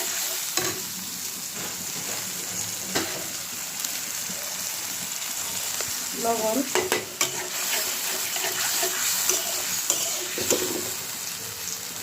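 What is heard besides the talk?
frying turmeric and chili powder spices in pan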